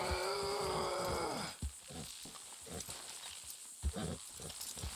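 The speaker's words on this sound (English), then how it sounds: "Good horses" Horses in the Red Dead Redemption 2 video game: a drawn-out whinny, then scattered hoof thuds and clip-clop steps over a rumbling ambient background.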